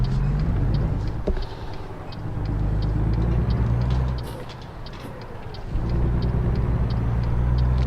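Heavy truck engine in American Truck Simulator drones loud and steady, its pitch dropping and climbing again after each gear shift, with low rumble throughout and no talking.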